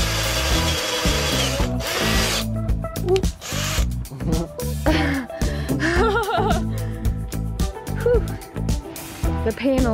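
A power drill drives screws into a solar panel mount on a Ram Promaster camper van build, its bursts mixed with a dense, steady backdrop of music and voices.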